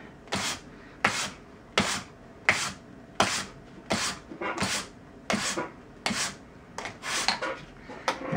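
Steinway L piano hammer felt is sanded with medium grit in steady, evenly spaced rasping strokes, about ten back-and-forth rubs, close and crisp with no talking.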